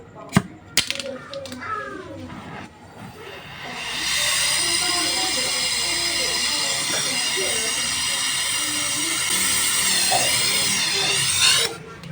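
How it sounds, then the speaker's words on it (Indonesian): A torch brazes the capillary pipe on a single-door Polytron refrigerator: a few sharp clicks, then a loud, steady hiss from the flame that runs close-up for about eight seconds before stopping abruptly. "Setelah ini dilas."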